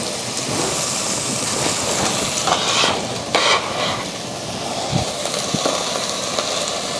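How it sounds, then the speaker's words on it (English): Steady sizzling of onions frying in a hot pan, a continuous crackling hiss with occasional stirring scrapes. "When you're sauteing the onions, you always want to hear that sizzling."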